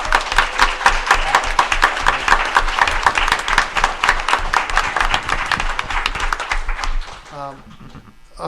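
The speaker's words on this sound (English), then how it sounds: "Let's have another bigger round of applause." Applause from a convention audience for volunteers and presenters, clapping and scattered cheers carrying for several seconds before dropping away, with voices mixed in.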